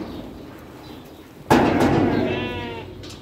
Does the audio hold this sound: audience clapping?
no